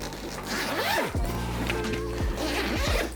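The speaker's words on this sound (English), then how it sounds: "And then you zip it down." A Lowepro camera bag is zipped closed in a couple of quick, rasping pulls, close and fairly loud, with faint rustling of the bag between strokes.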